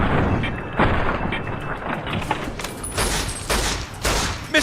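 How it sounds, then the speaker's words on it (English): Gunfire from Fallout: New Vegas cracks in repeated loud bursts, close and booming, one volley after another with short gaps between. "I gotta shoot her in the chest because we need her alive"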